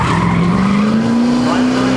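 A 1970 Camaro race car on an autocross course, its engine roaring loud and close with a steady rising pitch as it accelerates, with tires scrubbing under hard cornering.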